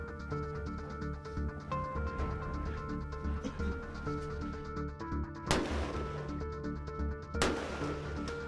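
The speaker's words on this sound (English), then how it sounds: "the first thing we need to do is sight in our rifles at the local gun range" Two separate rifle shots at an outdoor gun range in Saskatchewan during sighting in before a whitetail hunt, each a sharp, loud crack a couple of seconds apart over steady background music.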